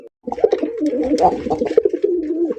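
Colored Rasgolla pigeons coo close by in soft, throaty, rolling calls that overlap continuously, warbling low and loud.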